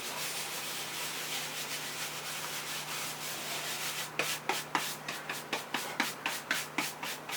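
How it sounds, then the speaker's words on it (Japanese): Baren rubbed over paper on a carved woodblock in traditional Japanese printing of the Great Wave, a steady soft hiss of friction that turns into rhythmic brushing strokes, close and alone. "バレンの動かし方は職人によってそれぞれ違いますが、一応基本的には下から上に、そして左に振っていきます。"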